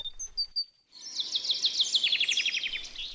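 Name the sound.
birds singing near Lake Laffrey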